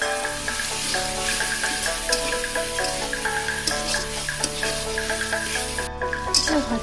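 Tomato, onion, ginger, salt and chilli frying in a pan, a steady sizzle running throughout alongside persistent tonal hum, with a short burst of clattering near the end and no talking.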